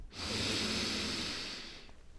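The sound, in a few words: deep breath in during a sophrology exercise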